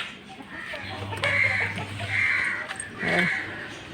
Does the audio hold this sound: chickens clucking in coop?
yes